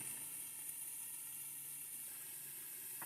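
Italian sausage meatballs sizzle on a Dash pizza griddle in a soft, continuous hiss that stays even and faint throughout, with no voices.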